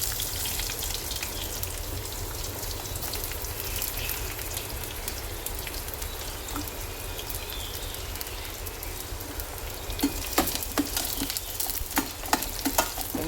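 Onion and tomato frying in oil with mustard seeds and fennel for a dried fish curry, giving a constant crackling sizzle up close, with sharper stirring clicks and taps toward the end.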